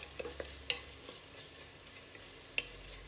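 Soft sizzling of onions and chillies sautéing in a pan, with occasional light taps and stirring clicks against the cookware, fairly quiet and close.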